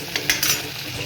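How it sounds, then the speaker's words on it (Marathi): Cumin and mustard seeds hit hot oil in a wok for tempering, giving a crackling sizzle with a few sharp spattering bursts near the start, followed by a softer steady fry. "फोडणीसाठी कढईमध्ये जिरं राई टाकलं"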